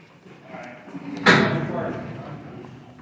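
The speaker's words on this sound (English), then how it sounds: "Run back there and open the line door." A line door in an underground coal mine is pushed open with a sudden heavy bang and scraping rumble that trails off, amid faint background voices and mine ambience.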